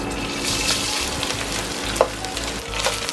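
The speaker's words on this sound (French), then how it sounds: "Donc je saute un peu avec l'huile." Rice is sautéed in sunflower oil in a saucepan for a beef lok lak dish, making a steady close sizzle broken by the scrape of stirring.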